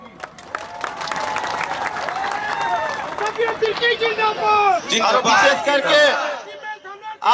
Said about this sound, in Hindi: एक बार जोर से हाथ ताली बजे लगी